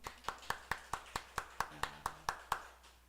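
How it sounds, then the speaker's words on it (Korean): Quiet, evenly spaced rhythmic hand claps in a church service, about a dozen crisp beats in steady tempo with a faint voice underneath. "우리 박수 한번 합시다."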